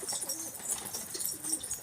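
Soft, low pigeon cooing repeats a few times against a steady background of bright, high-pitched chirping birds, all fairly faint and distant.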